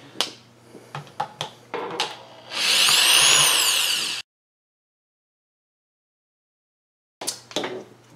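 A small electric impact driver backs out screws, first with short intermittent bursts and clicks, then a sustained whirring run that stops abruptly, followed by silence and a few more brief bursts.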